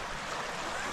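A Lake District river beside a rough walking path near Buttermere rushes in a steady, broadband wash of flowing water, heard close and continuous for under a second with no voices.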